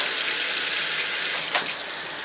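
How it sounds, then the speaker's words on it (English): Cold water runs steadily from a sink tap, a continuous close splashing hiss with a brief surge midway and no voices. "Now I'm going to rinse it with cold water"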